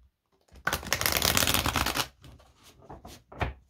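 Angel tarot cards being shuffled by hand: a loud riffling burst lasting about a second and a half, followed by softer card taps and one more short riffle, close up and without speech.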